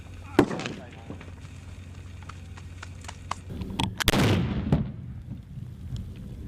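A sharp blast cracks out, followed by a louder booming M18A1 Claymore mine explosion with rumbling debris, amid scattered clicks and faint voices.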